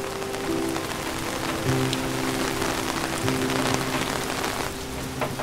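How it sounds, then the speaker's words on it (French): Steady rain pours onto a surface, a loud, dense hiss with scattered drop impacts heard close throughout, with a faint low hum underneath and no talk. "Je me suis toujours demandé quelle sensation ferait la pluie sur ma peau."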